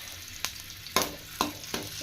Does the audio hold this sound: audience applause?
no